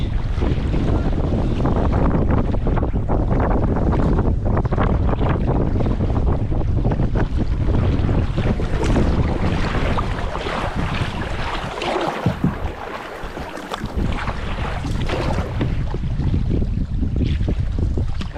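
Strong wind on a lake buffets the microphone in a constant loud roar, with water splashing and slapping against a canoe throughout, and no voices.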